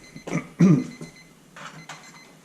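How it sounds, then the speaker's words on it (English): A kitchen-style timer goes off in a knifemaking workshop, sounding several short, sharp electronic beeps in uneven bursts, close and fairly loud against a quiet background. "there's our timer for the next set of blades"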